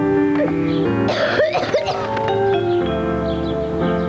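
A wet, persistent cough in a Polish cough syrup advert, heard as a few loud, close coughing and throat-clearing bursts over a steady music bed with no talk.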